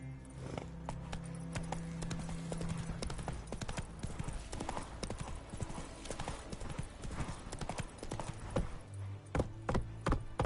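Steady clip-clop of a horse's hooves at a gallop in The Witcher 3 on PS5, loud and continuous with a brief whinny, the rhythm running the whole time alongside game ambience.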